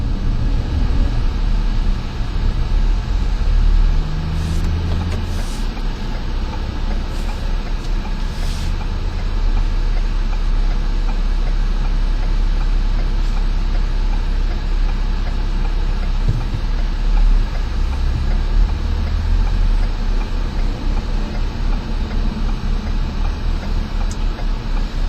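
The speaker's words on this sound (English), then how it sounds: "We have a little bit of traffic here" Road traffic with trucks passes while a 2011 Ford Explorer Limited drives, a continuous loud low rumble of engines and tyres with some swells as heavy vehicles go by, no talk.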